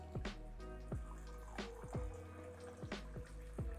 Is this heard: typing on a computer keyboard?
no